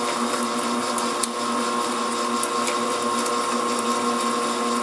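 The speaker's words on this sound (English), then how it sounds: "Now the machine is going to do what it does. So you got to let it go ahead and mix." An electric mixer whips shea butter soufflé with a loud, steady motor whine and hum that runs unbroken throughout, close by and alone.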